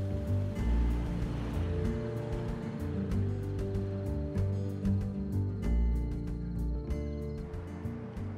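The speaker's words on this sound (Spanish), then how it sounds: "El Salvador cuenta con algunas de las olas más largas y perfectas de América Central" Ocean waves break along El Salvador's Pacific coast near Surf City, a continuous rolling wash and roar with surges and layered low rumbling, fairly loud and unbroken by voices.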